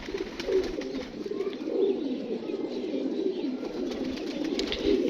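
A female pigeon coos softly and continuously from close by, its low murmuring calls rolling on without pause against a faint background hiss.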